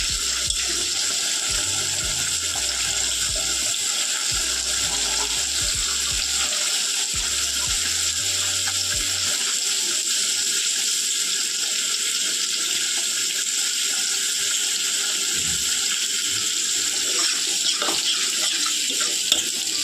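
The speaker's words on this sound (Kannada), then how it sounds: "ನೀರು ಹಾಕ್ತಾಯಿದ್ದೀನಿ." Water pours steadily into a cooking pot in a continuous rushing stream for a long stretch, with faint clinks and rumbles underneath; no one speaks.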